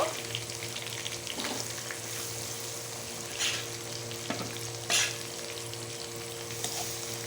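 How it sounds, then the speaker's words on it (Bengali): Pabda fish frying in a pan makes a steady sizzle with a low background hum, punctuated by a few brief louder crackles or utensil scrapes, heard close with no voices. "ভেজে নেব"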